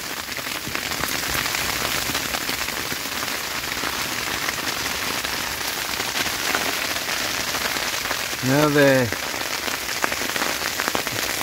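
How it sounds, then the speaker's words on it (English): Heavy freezing rain pelts a small hot tent during winter camping in a dense, unbroken patter, with a voice speaking briefly near the end. "That's a heavy freezing rain."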